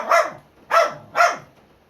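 Three loud, close barks from a pet dog, evenly spaced about half a second apart, standing alone against a quiet background.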